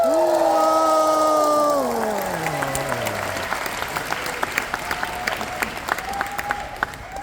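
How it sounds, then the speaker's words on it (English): A graduation convocation audience breaks into loud, sustained cheering and applause, with dense clapping and whoops. A rising tonal cheer fades out after the first couple of seconds and the clapping continues steadily. "let's hear an even bigger cheer."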